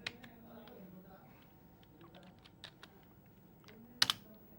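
Fingers type on a computer keyboard at a quiet, irregular pace while writing a Java program. The soft keystrokes are punctuated by one sharper click toward the end.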